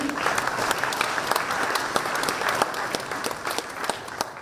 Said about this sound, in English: A big round of applause to the team.